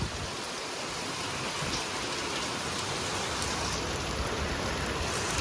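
Steady, even rain pours down throughout on a stormy day with a power outage, a dense close hiss of drops striking surfaces without pause, and nobody speaks over it.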